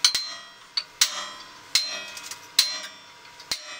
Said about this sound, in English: So now we'll just center punch them and then we can drill them out.